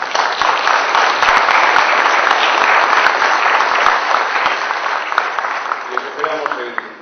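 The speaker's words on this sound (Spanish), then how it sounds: "Un aplauso grande para Carlos Pérez." Sustained audience applause after a conference talk, a loud, dense patter of many hands that gradually thins out as a voice starts speaking near the end.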